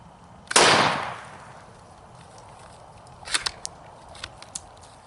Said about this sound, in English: Now I'm going to load a Remington STS target shell. I'm going to shoot at the little jug.